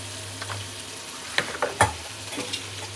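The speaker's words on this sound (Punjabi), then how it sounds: "ਤੇ ਜੀਰਾ ਪਾ ਕੇ ਪਿਆਜ਼ ਭੁੰਨ ਲਿਆ" Chopped onion with cumin seeds frying in a pan, a soft steady sizzle with a few sharper scraping stirs, close and fairly quiet, with no talking.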